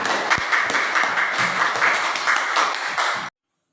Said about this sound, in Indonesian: Kita berikan aplaus untuk kelompok 3